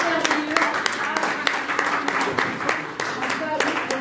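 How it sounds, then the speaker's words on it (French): Applause from an audience at a Paris press conference for a singer: dense, steady clapping with sharp claps standing out, filling the whole stretch at moderate level. "Bravo, en tout cas, on peut l'applaudir."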